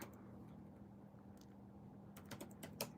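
Typing on a computer keyboard, faint clicking keystrokes that grow into a quick cluster of sharper taps toward the end over a low room hum.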